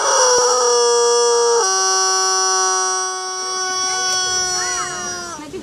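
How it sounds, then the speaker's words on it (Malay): A rubber chicken toy, squeezed to call a waiter at a restaurant in Hat Yai, Thailand, lets out one long, loud, wheezing squawk that wavers and fades toward the end, with nothing else heard. "Picit ayam untuk panggil pelayan."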